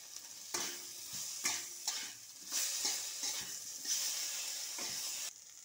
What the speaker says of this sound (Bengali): ভেজে নেব আলুগুলো